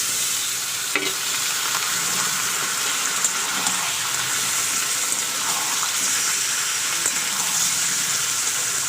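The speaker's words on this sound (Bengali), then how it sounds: "দেখতে পাচ্ছি আমার পেঁয়াজটা লাল হয়ে গেছে এবার আমার ওতে মাংসটা দিয়ে দেবো চিকেনটাকে দিয়ে দেবো" Chicken pieces hit browned onions in a hot pan and sizzle loudly and continuously, a dense close hiss with a few soft stirring knocks, no talking.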